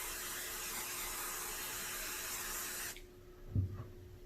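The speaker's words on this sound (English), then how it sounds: "I'm gonna spray it down with a little bit more of this stuff." Steady aerosol cleaner hiss sprayed onto a Titan 9mm pistol for about three seconds, cutting off abruptly, followed by a brief soft handling knock.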